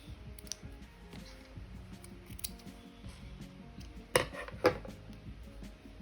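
Scissors snipping crochet yarn while a bikini top is being made: two crisp, close snips come late, standing out clearly against a quiet background of soft handling clicks, with no talking.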